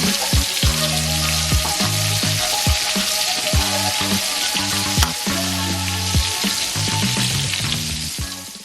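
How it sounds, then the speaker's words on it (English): Lobster sears shell-side down in a hot pan, a loud, steady close sizzle and crackle with intermittent scraping stirs and clatter, fading slightly at the end. "the heat is still going to come up through the shell and cook the other side of the lobster"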